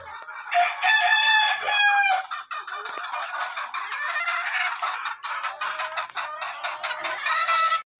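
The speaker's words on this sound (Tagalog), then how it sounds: "Ayan po yung mga manok dito nga nakatali." Tethered Siamo gamefowl roosters and chickens crow loudly and close by, one long cock-a-doodle-doo followed by overlapping crows and clucking from several birds, with no talk.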